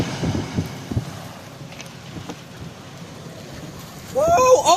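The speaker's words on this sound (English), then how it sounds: "Look at the wind." Strong, damaging thunderstorm winds sweep across a valley near Rome, New York, buffeting the microphone in rough gusts that swell louder toward the end, where excited voices break in.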